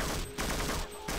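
Soldiers exchange dense, rapid automatic gunfire in the Half-Life mod Exodus, with an alien attack under way. The bursts are loud and continuous, with two brief lulls.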